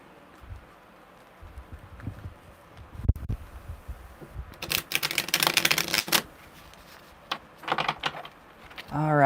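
Tarot cards being shuffled with several riffling, fluttering bursts of card noise, some soft taps and handling sounds, and a short whirring flutter at the end, recorded close up during a live reading.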